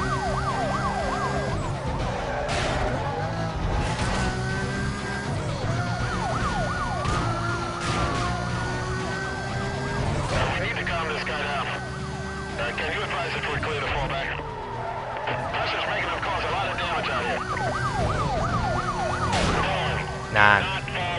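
Police car sirens wail continuously in Need for Speed Most Wanted, several overlapping sweeping tones close by during a chase, mixed with engine roar and a voice talking over them.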